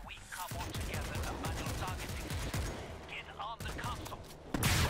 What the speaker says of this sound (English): Okay, automatic turret.